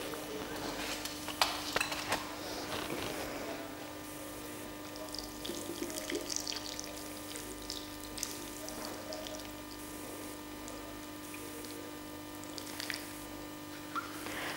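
Water poured from a watering can over a model landscape to mimic rainfall, a soft, steady patter and trickle that runs for most of the stretch beneath a constant low electrical hum.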